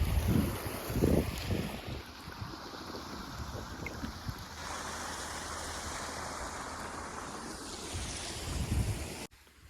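Irrigation water rushes and flows across a village farm field in a steady broad wash, mixed with wind buffeting the microphone, with no one talking.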